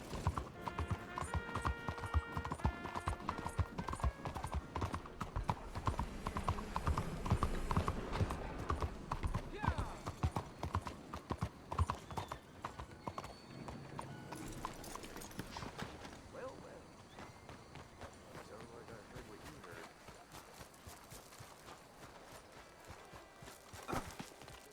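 Galloping horse hooves from Red Dead Redemption 2, a rapid rhythmic clip-clop that is loud and close at first and then eases into a lighter trot, with speech heard over it.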